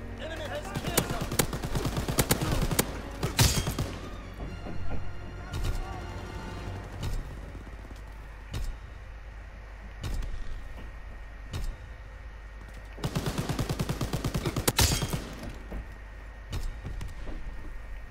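Rapid machine-gun bursts in Call of Duty WW2 rattle out in two dense volleys near the start and again later, with scattered single shots and game noises between and a voice talking over parts.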